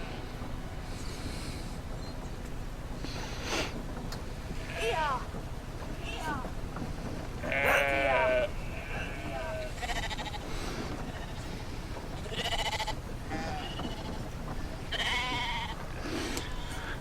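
Several sheep bleat at intervals over a steady low rumble in a video game, with a voice talking in between.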